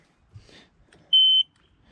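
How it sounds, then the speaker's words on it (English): A single short electronic beep from a 1996 engine on start-up with its stock exhaust pipe fitted, a steady high-pitched tone lasting about a third of a second, loud and close after some faint rustling. "Trying to start it and it beeps at me."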